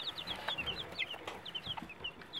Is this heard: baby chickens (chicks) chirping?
yes